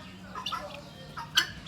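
Chickens cluck in a park, a few soft, scattered calls at close to middle distance over quiet background noise.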